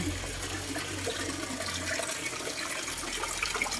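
Water pours steadily from an outlet back into a concrete fish pond fitted with a water spinach filter, a continuous close splashing rush with no pauses.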